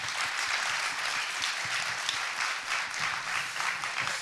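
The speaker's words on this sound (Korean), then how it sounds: "박수 한번 주세요." Studio audience applause at a talk show taping, a dense, steady wash of many hands clapping that holds at an even level throughout, with no speech over it.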